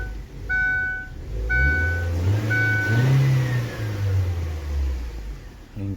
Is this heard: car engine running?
yes